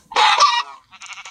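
A chicken in a farming video game gives a loud, cartoonish clucking squawk, followed after a short pause by a softer, choppy second burst of calls.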